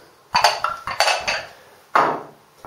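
Tabac Original shaving soap is scooped into a porcelain bowl, giving several close, sharp clinks and scrapes of utensil on ceramic in uneven bursts with short pauses between them.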